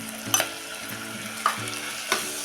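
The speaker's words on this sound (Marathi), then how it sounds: "दही पूर्ण विरगळेपर्यंत आपण हे परतून घेतलेलं आहे" Two spoons of yogurt being sautéed with masala in a pan for peas pulao, a soft sizzle punctuated by three distinct spatula stirs, close up with no talking.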